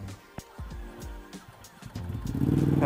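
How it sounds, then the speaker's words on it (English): A Ducati Panigale V2 motorcycle engine cranks and catches, building from scattered mechanical clicks into a rising, steady idle rumble that grows louder toward the end. "Pops is gonna start up the V2."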